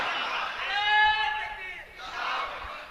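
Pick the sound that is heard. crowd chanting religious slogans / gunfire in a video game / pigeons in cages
crowd chanting religious slogans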